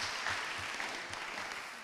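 An audience at a live talk claps together in a steady burst of applause, moderately loud and sustained, without any speech over it.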